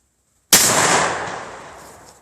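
A 12 gauge shotgun fires a custom buckshot shell outdoors, one loud sudden blast after a silent lead-in, its roar decaying slowly over nearly two seconds, no talk.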